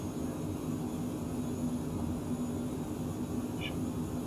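Steady, unbroken drone of a simulated Cessna C510 Mustang jet's engines in flight, with a constant low roar and a faint high whine that hold evenly throughout, with no talking.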